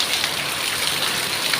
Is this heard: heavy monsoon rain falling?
yes